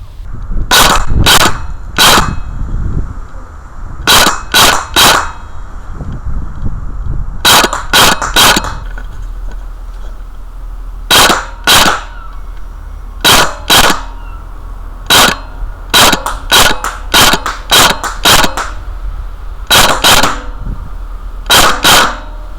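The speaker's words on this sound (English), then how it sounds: "Just going to see if this picks up the BBs flying at a different speed." Airsoft gun firing BBs outdoors, loud sharp cracking shots in quick bursts of two to four, with short pauses between groups and a low background hum, no talk.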